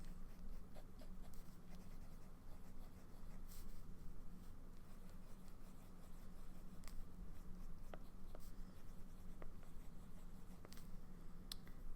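TWSBI fountain pen with a medium nib writing in Sailor Georgia ink, faint close scratching on paper continuing steadily with small taps and strokes.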